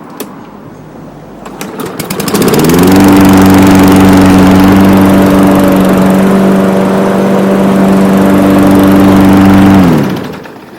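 A Craftsman Platinum PRO lawn mower with electric start fires up and runs at a steady loud drone with clear engine harmonics, holding for about seven seconds before cutting off.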